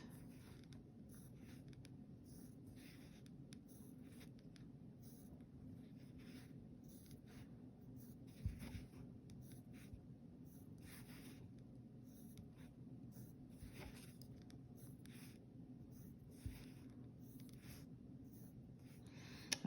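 A pencil draws guide lines on an egg for pysanky in a cascading box design, giving soft, steady scratchy strokes with a few faint taps, quiet and close in a still room.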